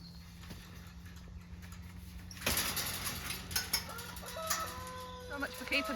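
Chickens on a farm cluck near the microphone, a few short, irregular calls over a quiet background with a low steady hum and some faint clanking.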